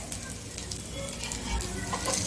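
Idli bombs made from leftover idli batter sizzle and crackle in hot oil after being flipped, giving a steady, moderately loud frying hiss throughout.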